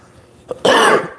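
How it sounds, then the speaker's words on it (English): A single harsh cough, close and loud, after a short faint throat sound; no talking. "oh, that cough."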